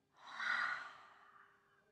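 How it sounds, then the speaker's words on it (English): A single long, soft exhale during a yoga breathing practice for calming anger, a breathy sigh that swells quickly then fades gently over about a second, close and quiet with no talk. "Exhale, let it go."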